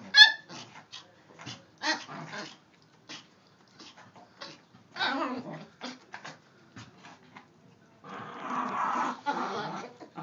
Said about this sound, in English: dog is crazy